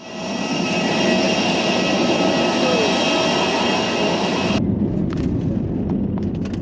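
Loud jet engine roar fills an airport, a steady broad rush that cuts off abruptly midway, leaving a lower rumble and scattered clicks.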